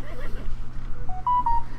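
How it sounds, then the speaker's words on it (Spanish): A mobile phone chirps a few short electronic beeps over a quiet game soundtrack with a low hum, the tones rising briefly near the end. "El móvil me puto suena."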